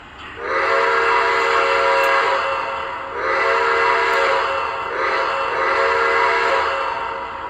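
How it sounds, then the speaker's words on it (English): A loud Lionel Vision Line Niagara 6013 model train steam whistle blows in three long, sustained blasts with brief dips between them, rich and chord-like, close and clear with no talking. "When you blow that whistle, it's just a huge sound."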